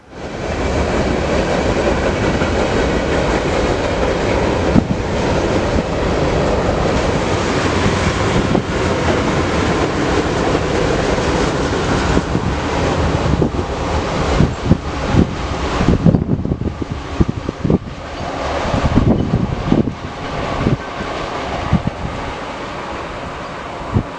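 A fast intermodal freight train rushes past at Galesburg, Illinois, a loud, continuous roar of rail cars with heavy wind buffeting, the clatter growing choppier and more broken toward the end.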